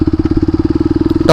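A motorcycle engine idles close by with a steady, rapid low thumping pulse, then a brief louder burst of noise cuts in at the very end.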